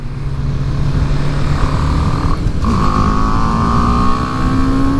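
BMW G310R motorcycle, a 2018 model, accelerating at full throttle up through the gears, engine note climbing and dropping with each shift, loud and steady from on board for about five seconds.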